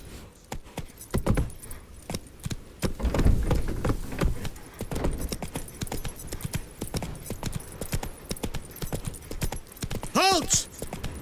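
Horse hooves clip-clop in a steady trot with jingling tack in the video game The Witcher 3: Wild Hunt, under background voices and game ambience.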